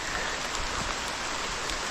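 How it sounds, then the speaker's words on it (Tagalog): Rain falls in a steady, unbroken hiss of dense drops, moderately loud and constant throughout, with no speech over it. "Talagang ulan na naman."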